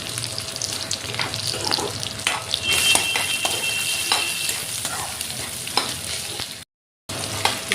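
Whole cumin seeds and dried red chilies crackle and sizzle in hot oil as a tempering, a busy close frying hiss with clicks of stirring and a brief dropout near the end.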